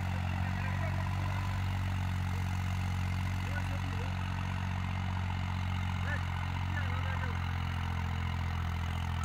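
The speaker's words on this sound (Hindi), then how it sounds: "प्रदीप फौजी का गांव खापड़वास में ट्रैक्टर चल रहे हैं" A tractor engine, a Massey 8055 or a 3630 Super, runs at a steady idle-like drone with low rumbling harmonics, continuous and unchanging, in a village setting.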